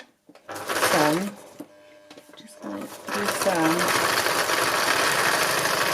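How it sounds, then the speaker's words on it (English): A sewing machine stitches fabric with a new colour of thread in short whirring bursts, starting and stopping before a longer steady run, close up with a voice speaking over it. "a little bit more stitching with this new colour thread"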